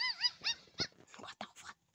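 A dog whimpers and yips in a short burst of rising, whining cries from a dog translator app commercial, close and clear with brief pauses between calls.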